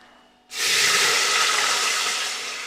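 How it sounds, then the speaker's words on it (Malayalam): Water suddenly gushes into a cooking pot in a loud, steady hissing stream after a brief quiet moment, continuing and tapering slightly, while biryani is being made. "നമ്മൾ വെള്ളം ഒഴിക്കുന്നു."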